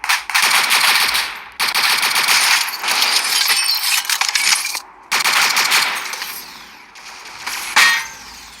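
Rapid machine gun fire in a video game, loud sustained bursts broken by brief pauses, with mechanical clicks between volleys.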